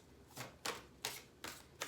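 Five quick crisp riffling bursts of a large tarot deck being shuffled, evenly spaced and close up, with quiet pauses between.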